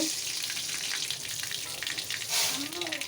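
Hot tempering (baghar) poured into sour dal sets off a loud, steady sizzle and spitting crackle that lasts throughout, swelling briefly near the end.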